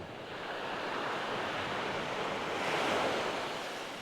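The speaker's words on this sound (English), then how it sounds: "Oh, I love the sound of waves up against the shoreline." Waves break and wash steadily against the shoreline at Charmouth beach, a continuous roaring surf with some wind noise, swelling louder near the end, with no voices.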